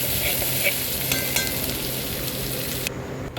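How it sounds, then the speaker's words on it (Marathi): Steady, dense sizzling of whole spices and tomato frying in hot oil for misal, with occasional stirring scrapes, close and continuous throughout. "हे खडे मसाले मी छान प्रकारे तेलामध्ये परतून घेतलेले आहे"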